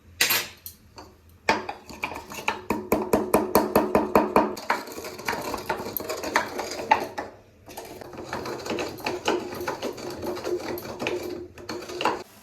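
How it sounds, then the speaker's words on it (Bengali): Fourteen or fifteen whole black peppercorns crushed with a little salt in a home kitchen for veg momos: rapid, repeated pounding knocks in quick bursts with short pauses, close and sharp, no talking. "এখানে 14-15টা আমি গোটা গোলমরিচ নিয়েছি, ওটা এখন আমি একটু কুটে নেব।"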